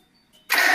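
A car engine is cranked by its starter and fires up after the ignition key is switched on during a diagnostic check. A sudden loud, steady engine roar follows a short quiet stretch.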